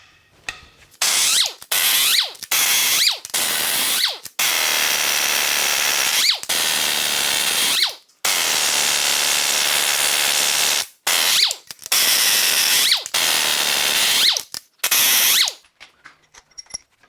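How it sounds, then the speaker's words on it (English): A ratchet wrench clicks in repeated bursts as the cylinder head bolts on a recalled GM L87 6.2L V8 are cracked loose. Each bout of dense pawl clatter is separated by short pauses. The sound is close and loud, with no talking. "let's crack the head bolts loose on the right-hand cylinder head"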